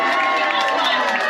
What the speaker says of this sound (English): A round of applause for Danielle's mom.